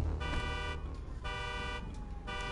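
Car alarm sounding in GTA V, a repeating electronic wail pulsing in cycles over background game noise, fairly faint with no talk.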